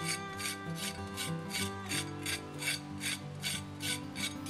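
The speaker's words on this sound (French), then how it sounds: "ça revient plus à couper le joint avec le bord du fer de la truelle" The edge of a trowel blade scrapes along mortar joints between fake bricks in a renovation, making a steady rhythmic rasping of about twelve even back-and-forth strokes, close and alone.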